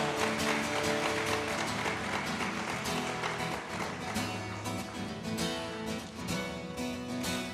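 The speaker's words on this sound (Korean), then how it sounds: "그 감사함과 영광의 박수 올려드리겠습니다" A church congregation claps steadily and continuously during a Sunday youth worship service, a dense wash of applause mixed with faint musical tones underneath.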